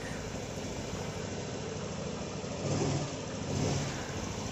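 A car engine idles steadily after a radiator and oil leak repair, with a couple of brief revs rising above the smooth, even hum.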